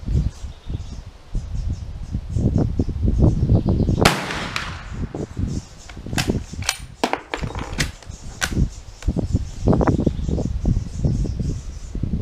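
A single loud, sharp gunshot rings out from a Dutch Model 1871/88 Beaumont-Vitali black powder bolt-action rifle at the range, surrounded by rustling, wind and handling clatter before and after.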